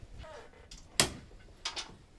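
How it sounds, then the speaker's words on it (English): An office door in a university setting swings shut with a single sharp knock-like thud, followed by a softer rattle and faint voices in the room. "Shut the door."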